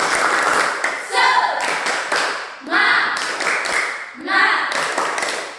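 A classroom of students performs a rhythmic spirited clap, three bursts of patterned claps separated by short pauses, close and lively, with voices in between.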